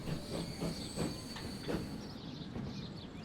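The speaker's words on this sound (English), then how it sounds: "that's an express train now, rather than a freight train" An express train rolls in within Transport Fever, a moderately quiet run of rhythmic wheel clacks over the rails with a faint steady hiss and high whine, easing off toward the end.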